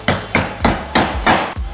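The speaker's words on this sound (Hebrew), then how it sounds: "ופשוט דופק אותם בעזרת פטיש ניפלים" A meat mallet pounds raw beef cuts for carpaccio: five loud, close, evenly spaced thuds in quick succession, each ending in a short fleshy slap.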